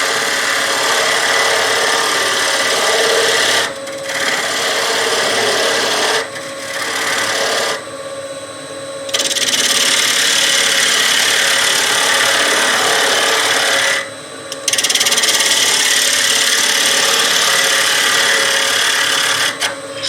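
A gouge cuts into a spinning wooden bowl on a lathe, giving a loud, steady rasping scrape with short pauses between passes as light cuts are taken.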